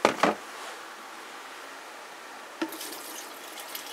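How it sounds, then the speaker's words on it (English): Carpet cleaning solution is poured into the dispenser cup of a second-hand steam cleaner: a short splashing gush at the start, a quiet hiss, then a second brief trickle of liquid, close and fairly soft. "we're going to measure out the 5 ounces of the carpet cleaning solution"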